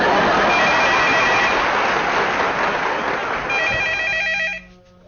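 A telephone rings loudly and steadily in a comedy household scene, its electronic tone repeating for several seconds before cutting off abruptly near the end.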